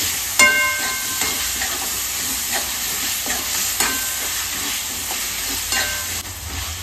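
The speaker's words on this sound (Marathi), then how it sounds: "कोलंबी फ्राय करून घेणार आहोत" Prawns frying and being stirred in a pan with onion, ginger and garlic paste, a steady close sizzle broken by regular scraping strokes of the spoon, with no talking.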